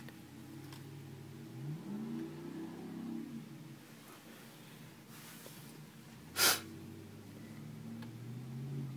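A Cadillac Escalade stuck in 18 inches of deep snow revs its engine in rising, straining surges, heard faint from a distance, with one sharp loud knock or bump partway through.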